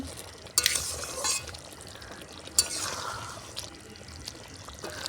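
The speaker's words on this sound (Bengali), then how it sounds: "আর দেখো ভালো করে নেড়ে চেড়ে মিশিয়ে নিচ্ছি" Chicken kofta curry is stirred in a pan over a soft simmering sizzle, with a couple of sharp metallic clinks of the spoon against the pan.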